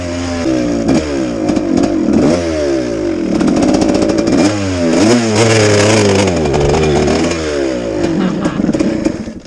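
A 1990 Suzuki RMX250 two-stroke motorcycle engine revs loud and close, its pitch repeatedly climbing and falling in sweeping revs with rattling clatter throughout.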